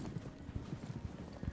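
Rhythmic clip-clop of a horse walking through snow in the online horse-riding game Star Stable, a steady run of soft hoofbeats close by with no voices.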